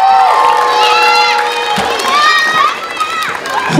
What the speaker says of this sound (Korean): 여러분의 응원의 박수가 필요합니다